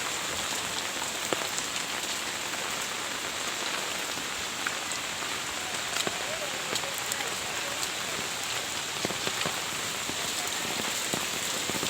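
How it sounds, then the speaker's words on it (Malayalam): Heavy monsoon rain pours down during a red alert in Malappuram, Kerala, a loud, unbroken hiss of drops on surfaces with occasional sharper splashes and no voices. "നല്ല മഴയാണ് കേട്ടോ"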